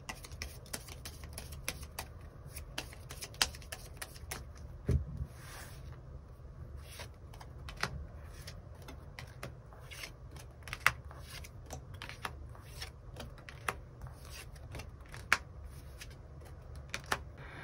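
Tarot cards are shuffled and drawn in a quiet room, with a steady run of soft papery clicks and riffling snaps close by and no voices.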